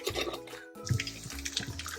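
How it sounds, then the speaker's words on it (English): Boiling water poured over tamarind to soak it while cooking masor tenga, a sour fish curry, heard as a close, steady splash and trickle of liquid running for about two seconds with no talk. "So you just soak that in a bit of boiling water."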